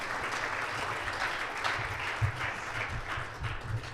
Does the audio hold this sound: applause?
yes